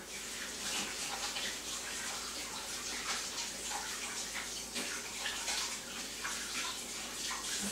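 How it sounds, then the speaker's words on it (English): Hands being washed under a running tap, a steady close rush and splash of water that continues throughout with no talking. "I have to wash my hands off"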